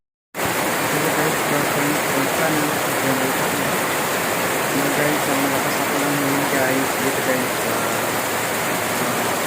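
Heavy rain pours steadily over a tent shelter, a dense, loud, unbroken roar that holds level from start to finish.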